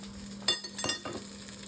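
Bream fillets fry in butter in a pan with a faint steady sizzle, broken by three quick clinks and scrapes of a utensil against the pan.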